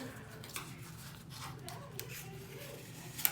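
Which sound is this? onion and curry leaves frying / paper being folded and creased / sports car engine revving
paper being folded and creased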